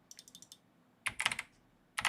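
Keys clatter on a computer keyboard in fast bursts of several clicking strokes with short pauses between them, close and crisp against a quiet room.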